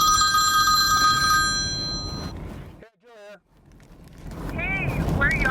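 A telephone bell rings loudly for about two seconds, followed by a brief warbling chirp and a rush of wind-like noise, with a second faint warbling tone near the end.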